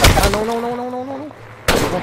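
Gunfire in the Apex Legends video game: a sharp shot at the start, a whining tonal game effect trailing off, then another loud burst of shots near the end.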